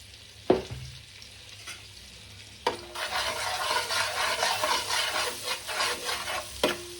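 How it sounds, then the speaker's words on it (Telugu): Butter melting and sizzling in a pan for butter chicken, a sudden steady crackle of frying that starts partway through and carries on with light stirring clicks, close and fairly loud. "బటర్ కలిగిపోయింది ఇట్లా కరగాలి బటర్ ఇట్లా కరగాలి బటర్"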